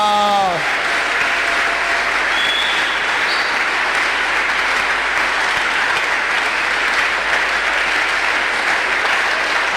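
A church congregation applauds loudly and steadily throughout, a dense wash of clapping that begins after a brief shout and holds at constant strength to the end.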